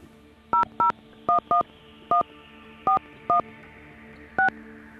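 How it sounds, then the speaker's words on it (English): A telephone keypad dials a number with DTMF tones, eight short crisp beeps in an uneven sequence over a faint steady line hum, clear and close with no talk. "Please enter the phone number you wish to call, including the full STD code or appropriate country code, followed by the hash key."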